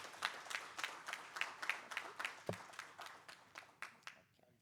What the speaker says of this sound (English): this certainly calls for a huge round of applause